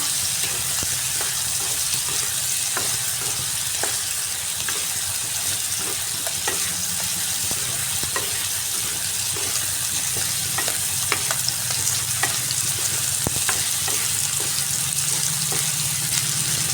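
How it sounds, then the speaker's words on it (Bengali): Ridge gourd and potato sautéing with spices in a pan, a continuous close sizzle broken by regular scraping and clinking strokes of a spatula stirring the vegetables, with no talking. "এভাবে কিছুক্ষণ ঝিঙ্গে আর আলু মশলার সাথে কষিয়ে নিচ্ছি"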